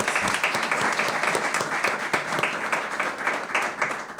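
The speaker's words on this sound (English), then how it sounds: "So please give them a round of applause." Steady audience applause at a park and arboretum renaming ceremony, many hands clapping at moderate volume in a continuous patter for several seconds, with no voices over it.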